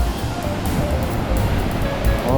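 Strong ocean waves crash and surge at a Bali beach, a loud, continuous roar of surf with wind buffeting the microphone throughout.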